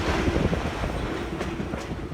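A loud, steady rumble of a heritage railway train rolling along the tracks, with faint wheel clatter and occasional high squeals, heard from on board.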